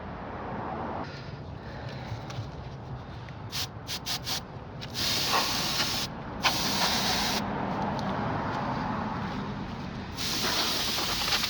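Compressed air cans blasting dust out of the back of a dusty 1960 Philco Predicta television, long close hissing sprays broken by a few short bursts and pauses.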